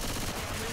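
Dense gunfire bursts in Left 4 Dead 2 on Expert mode as continuous overlapping shots, loud and close, with no gap.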